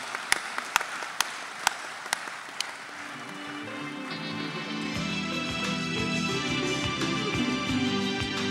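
Audience applause at an awards ceremony: a few sharp individual claps at first, then swelling into steady, full applause from a large crowd that continues to the end, with a low murmur and music-like tones underneath.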